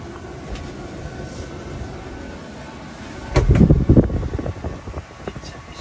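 A Webasto Airtop 2000 diesel air heater fitted in a Citroen runs with a steady fan-like whir, swelling into a louder rumbling surge midway before settling back.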